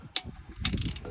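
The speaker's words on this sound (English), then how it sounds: "we're going to torque these down to 30 foot-pounds in a random crisscross order" A torque wrench clicks and ratchets while tightening the rear differential cover bolts on a 2023 Sierra HD, two short close metallic bursts in quick succession with no talk.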